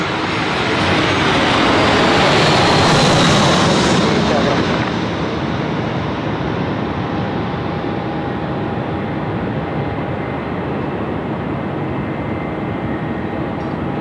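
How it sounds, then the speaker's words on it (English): Jetstar jet airliner arriving from Maroochydore at Sydney Airport, a loud roaring rush that swells over the first few seconds, then fades into a long, steady distant rumble. "I was rudely interrupted by the Jetstar 789 coming in from Maroochydore there"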